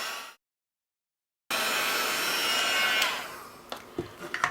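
Heat tool blowing on inked cardstock: after a brief silence, a steady loud whooshing hiss runs about a second and a half, then tapers off into small knocks and handling sounds.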